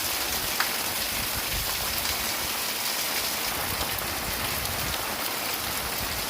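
Very heavy rain pours down steadily in Dadyal, filling the air with a dense, unbroken hiss of drops and running water, loud and close throughout.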